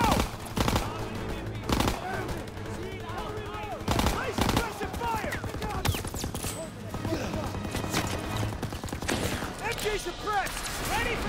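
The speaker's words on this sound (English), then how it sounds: "Gotta suppress the machine gun!" Machine gun fire rattles in rapid bursts during a Call of Duty WWII firefight, with sharp gunshots and near, loud volleys under steady shouted voices.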